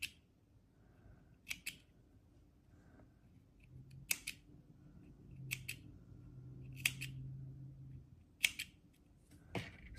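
Scissors snip through crochet yarn in a series of sharp, separate clicks at irregular intervals, with about eight quiet cuts close up and no talking.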